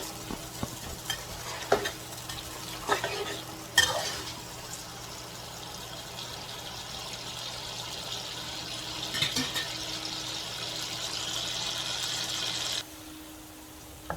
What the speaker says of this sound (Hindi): प्याज ब्राउन हो चुका है, थोड़ा सा और मैं इसको ब्राउन कर लेता हूँ